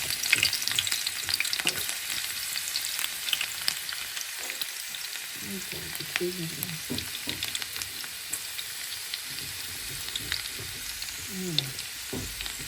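Ginger and garlic crackle in hot oil for a tadka, a dense steady sizzle with occasional stirring scrapes, and someone speaks softly over it at moments.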